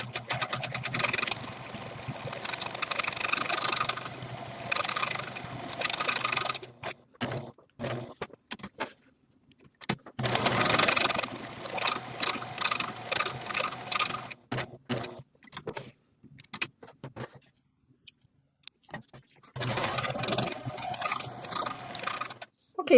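Sewing machine stitching a satin edge finish on fabric, close mechanical whirring in several sustained runs broken by pauses with clicks and handling as the piece is turned.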